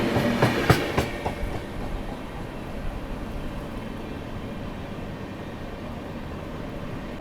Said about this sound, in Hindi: प्लेटफार्म नंबर 9 से जो ट्रेन डिपार्चर हो रही है वो है यशवंतपुर संपर्क क्रांति एक्सप्रेस